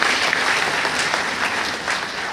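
Dense, steady applause from an audience at a business seminar, cheering host Himam sir. The clapping is loud and continuous for the whole stretch, with no voices over it.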